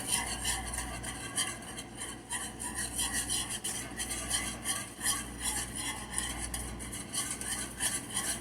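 A whisk beating a sauce in a pan, rapid rhythmic scraping and swishing strokes close up at a steady quick pace, with a faint sizzle underneath and no talking.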